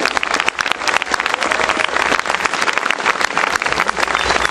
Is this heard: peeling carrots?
no